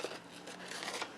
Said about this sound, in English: I'm going to trim on the black line or just inside the black line.